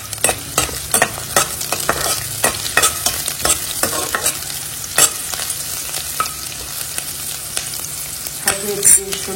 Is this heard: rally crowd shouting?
no